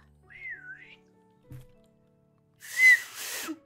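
A person tries to whistle, producing a wavering tone that rises and dips, followed by a breathy, noisy burst with a brief whistled pitch toward the end, alone with no talk.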